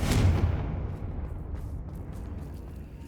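Confringo explosive spell in the game Hogwarts Legacy, a loud booming blast at the start that decays into a rumbling tail lasting a few seconds, with no talking.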